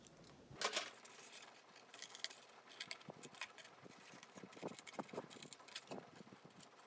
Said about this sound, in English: cut out my little cardboard citizen